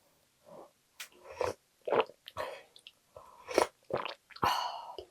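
Someone eats black goat soup at home, with close, quiet bursts of chewing, slurping and biting separated by short pauses, and no talking.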